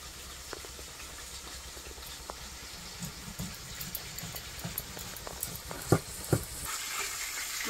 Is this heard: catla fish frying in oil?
yes